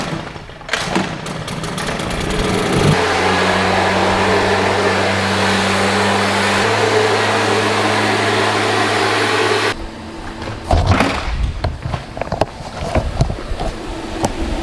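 A blower engine starts up to blow out a barn, a steady loud droning hum with a shift in pitch partway through before it cuts off, leaving scattered clatter and rustling.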